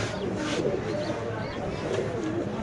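Caged pigeons coo in soft, repeated low rolling calls close by, with a few faint chirps and some background voices mixed in.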